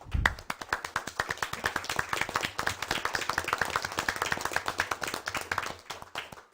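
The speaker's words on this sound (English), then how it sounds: "That absolutely deserves a round of applause." A small group claps during a school board of education meeting, individual claps distinct and rhythmic in a quick, even patter that holds steady without cheering, a modest round in a room.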